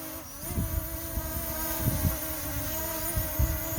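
A steady high-pitched buzzing hum of small Eachine EX5 GPS quadcopter drone propellers, fairly close, with wind gusts and faint thumps underneath.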